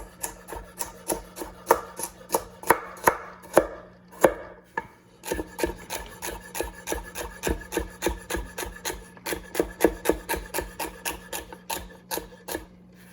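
Vegetables being chopped with a knife on a board in a home kitchen, a run of crisp, evenly spaced cuts close by, with one brief pause partway through before the rhythmic chopping resumes.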